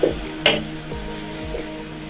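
Onions frying in a pan for chicken jalfrezi, a steady sizzle with a few scraping stirs of a utensil, close and alone without any talk.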